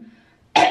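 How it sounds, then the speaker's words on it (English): A single short throat clear from someone recovering from wisdom tooth removal, a rough burst right at the end after near silence, close and fairly loud. "Let me at least clear my throat."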